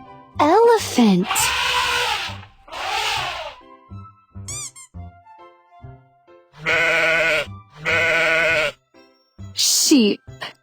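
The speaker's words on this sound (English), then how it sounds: "Sheep." Sheep bleat loudly and close in several long wavering cries, separated by short gaps, with a voice speaking between them.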